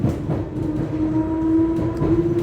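An Isle of Wight railway train runs along the line, heard from inside as a steady low rumble with a sustained tonal whine and faint rhythmic clatter of wheels, fairly loud and continuous with no talk.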